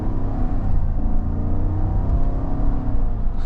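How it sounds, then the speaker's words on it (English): A 2025 GMC Yukon Denali Ultimate's 6.2-liter V8 gives a steady, muted low rumble, a continuous engine drone heard from inside the big SUV with no break or surge. "I love that nice V8 rumble"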